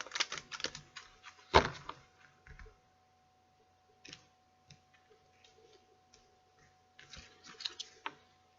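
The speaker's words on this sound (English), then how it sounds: "I put a quick shuffle on these cards." Tarot cards being shuffled by hand, with bursts of quick papery ticking and riffling, a sharp snap near the start, then scattered soft clicks and a final flurry, close and fairly quiet with no talking.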